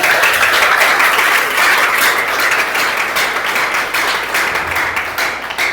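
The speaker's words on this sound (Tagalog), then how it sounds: "Yung malakas na palakpak naman." A church congregation gives loud, sustained applause, a dense and even wash of clapping from many hands that holds steady throughout.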